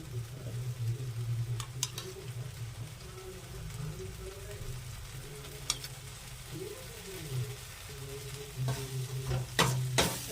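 Whipped sour yogurt is stirred into a pea and potato curry, making a soft sizzle and low bubbling under a steady hum, with a few sharp clicks and scrapes of the spoon near the end.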